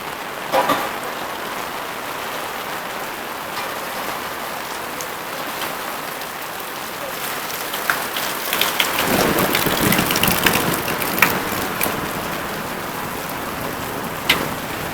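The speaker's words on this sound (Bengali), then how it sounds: "বৃষ্টির জোর অনেক বেড়ে গেছে তো শেডের ভেতরে যাই" Heavy rain pours steadily outside a goat shed, a dense close hiss of drops on surfaces that grows louder and fuller partway through, with scattered heavier splashes and no voices.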